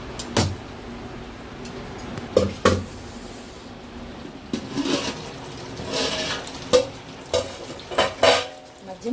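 Biryani rice stirred in a cooking pot, with scattered scrapes and clinks of a metal spoon against the pot at an irregular, unhurried pace, up close with a faint kitchen background.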